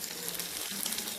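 Steady, soft sizzling and crackling of chopped onions frying in hot oil, continuous and close.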